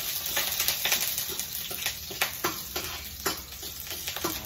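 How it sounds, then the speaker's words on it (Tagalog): Food sautés in a hot pan, giving a dense, continuous crackling sizzle broken by quick scraping and clicking stirs, close and fairly loud, with nobody speaking. "Nagigisa na po tayo mga idol"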